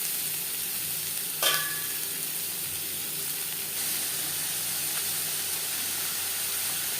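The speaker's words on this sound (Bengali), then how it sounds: "2 চামচ রিফাইন্ড অয়েল গরম করে নেওয়ার পর সবার প্রথমে দিয়ে দেবো পেঁয়াজ কুচি" Chopped onion sizzles in two spoons of hot refined oil in a pan, a steady close hiss of frying with a brief clink of a utensil near the start and a slight surge as stirring shifts the pieces.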